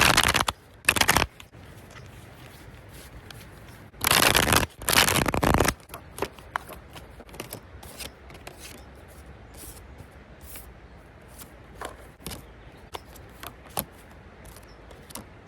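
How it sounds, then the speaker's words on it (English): Cards are shuffled in a few short, crisp riffling bursts, separated by quiet stretches with scattered light taps and rustles. "Let's shuffle your deck."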